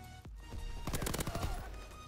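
Rapid bursts of shotgun and automatic gunfire in a shooter video game, a dense cluster of loud reports close together after a brief lull, with no talk over it.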